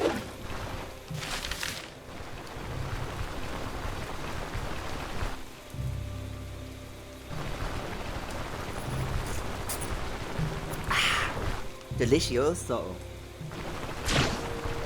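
In the fantasy RPG Stoneshard, a continuous wash of rain hisses throughout with low rumbling thunder swells, while someone briefly speaks over it.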